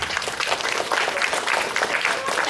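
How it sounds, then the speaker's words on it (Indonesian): Audience applause for the teachers at an elementary school gathering, a steady dense clapping from many people throughout, with some voices mixed in. "Tepuk tangan untuk Bapak Ibu gurunya mana?"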